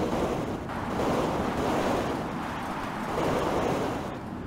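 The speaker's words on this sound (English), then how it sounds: "The wind is barely blowing." Steady wind rushes without a break in the video game The Howler, a dense, loud, broadband roar that swells and eases slightly, with no talking.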